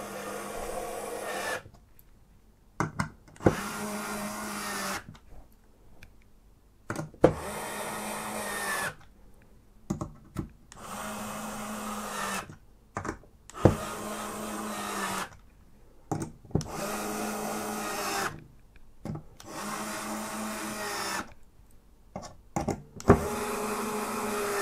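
Screws being driven into the fan mounting holes of a Thermaltake TH280 V2 Ultra EX ARGB AIO radiator, heard as repeated close, mid-loud bursts of mechanical turning and rasping separated by short silent gaps, with no talking.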